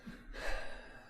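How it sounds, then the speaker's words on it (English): A single drawn-out yawn, an inhale followed by a breathy exhale lasting about a second, heard close and alone with faint low room noise beneath it. "I get a yawn coming on"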